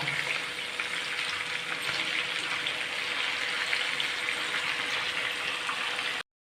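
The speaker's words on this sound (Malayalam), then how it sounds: "ഒരു മീഡിയം ഫ്ലെയിമിലിട്ട് ഫ്രൈ ചെയ്താൽ മതി" Chicken pieces frying in hot oil over a medium flame, giving a steady, dense sizzle that holds evenly throughout and then cuts off abruptly, with no voices.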